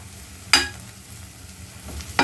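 A spoon stirs bitter gourd with fennel powder in a cooking pan: two distinct scraping strokes, one near the start and one at the end, with a low sizzle and no voices between them.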